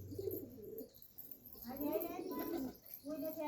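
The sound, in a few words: pigeons cooing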